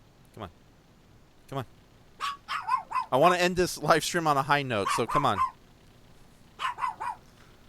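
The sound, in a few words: dog barking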